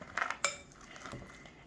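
A spoon stirs candy corn into melted marshmallow in a bowl, giving a few quick clinks and scrapes of metal against the bowl, close and brief, with quieter rustling after.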